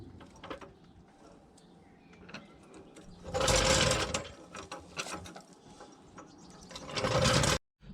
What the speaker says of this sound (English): we lower the vehicle to the ground